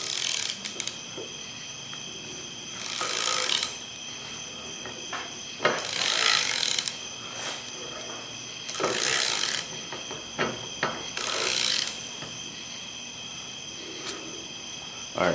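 A hand ratchet snugging up a fastener during a Dana 60 axle rebuild, with four distinct bursts of close, rapid clicking separated by short pauses and quieter mechanical handling.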